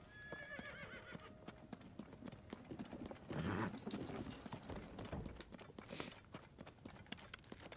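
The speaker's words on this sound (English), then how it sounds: "Just in time, because my horse is coming." A horse approaches in Zelda: Tears of the Kingdom, with steady clip-clopping hooves and a neigh in the middle, quiet and fairly close against light outdoor ambience.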